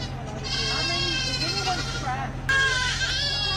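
Goats bleat at a goat show amid a noisy crowd, with several wavering calls layered over steady background chatter and a constant low hum, one louder bleat rising near the end.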